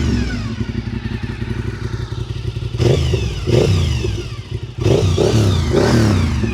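Honda RC51 motorcycle engine running close by, a steady idle thrum that swells with several sharp throttle blips and revs before settling back down.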